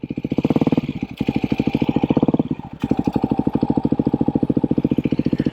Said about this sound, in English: I'm not sure if I want to be that guy at rallies with the super loud exhaust